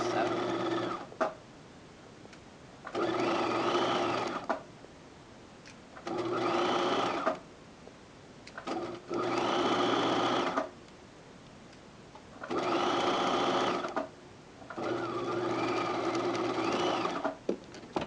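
Sewing machine stitching along the edge of a fabric tote-bag pocket, running in six steady bursts of a few seconds each, separated by brief pauses, close and clear with no talk.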